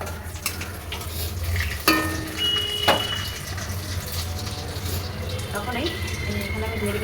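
Panch phoron spices frying in hot oil in a wok, a steady sizzle running throughout with a couple of sharp clinks of utensils and someone talking over it.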